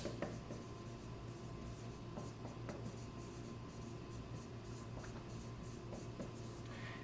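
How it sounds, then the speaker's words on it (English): Pen scratching steadily on paper while handwriting notes on salivary and sweat ducts, a continuous soft rubbing hiss with occasional light taps, close and fairly quiet against a noisy room background. "I'll just go ahead and write down here, medium salivary ducts."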